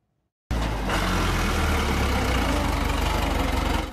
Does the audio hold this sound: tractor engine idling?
yes